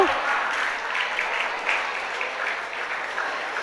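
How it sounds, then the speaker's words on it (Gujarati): Sustained applause from an audience at a school award ceremony honouring top-scoring students, a dense steady clapping that stays loud and even for several seconds, with no talk over it. "પાડો તાળીઓ તમ તારે, જોરદાર તાળીઓ"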